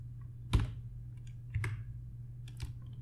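A few sharp computer keyboard keystrokes as a Power BI formula is entered, three distinct clicks spaced about a second apart, fairly close and quiet against a steady low hum, with no talking.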